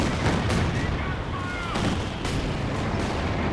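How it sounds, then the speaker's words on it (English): Katyusha rocket artillery barrage in the Company of Heroes 2 video game, a dense, continuous roar of overlapping blasts and rumbling impacts pounding an area without pause. "you can see the Katyushas are just pounding this whole area here"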